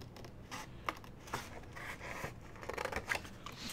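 Scissors snip through paper, cutting out a small rectangle on a handled Christmas gift bag, with quiet, close, intermittent rasping cuts and no talk.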